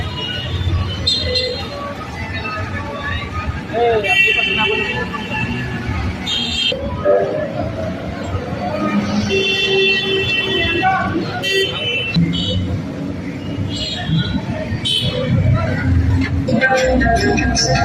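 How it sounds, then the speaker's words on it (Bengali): Auto-rickshaw ride through traffic on the way to Himchori in Cox's Bazar, with steady road rumble and several horn toots near and far, while people talk over it. "আমরা এখন অটো নিয়ে হিমচরের উদ্দেশ্যে যাত্রা শুরু করছি"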